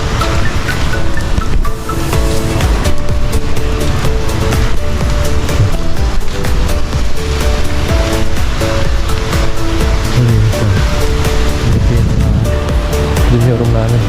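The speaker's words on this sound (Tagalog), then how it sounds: "Kaya natin kung maganda yung dagat dito." Surf rolls continuously onto a beach in rainy weather, a loud steady wash of breaking waves filling the whole stretch, with voices talking faintly underneath.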